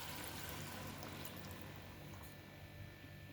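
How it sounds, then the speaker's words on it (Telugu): Water is poured into a pot for tomato dal, a steady continuous rushing pour, fairly faint and unbroken, with no talking. "వాటర్ పోస్తున్నాను."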